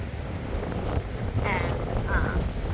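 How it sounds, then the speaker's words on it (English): Strong wind roars during Hurricane Hilary outside Palm Springs, California, a steady loud rush with low-frequency buffeting across the microphone throughout, with a faint voice underneath. "and very, very windy"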